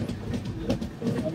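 Train running on rails on the way to Chengannur: a short stretch of low, rumbling rolling noise with a faint rhythmic pulsing, moderately close.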